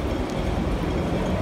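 Steady, loud rumbling roar of a subway train moving through a tunnel at Hong Kong Station, a dense continuous rush with no distinct breaks.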